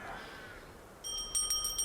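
A small bell is rung twice in quick succession, bright clear dings ringing out near and fairly loud over a quiet room hush.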